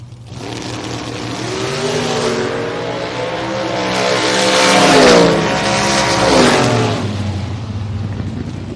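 A Corvette and a Camaro drag car launch down the strip, engines roaring loud with a rising surge that peaks midway before fading.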